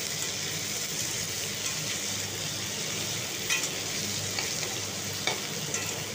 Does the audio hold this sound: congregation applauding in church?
no